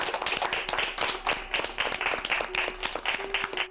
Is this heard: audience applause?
yes